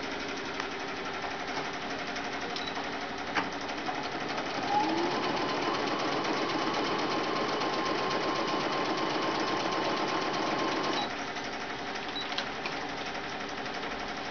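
A light domestic sewing machine stitches a normal seam with its thread tension on automatic, a steady close whirring rattle that runs evenly for several seconds, then stops, with small clicks before and after.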